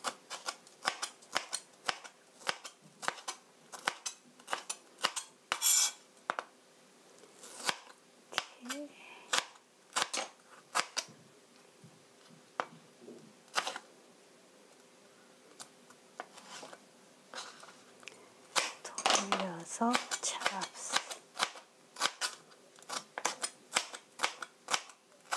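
A knife chops guacamole bruschetta ingredients into small pieces on a board, sharp close taps in quick irregular runs with brief pauses and a denser burst near the end.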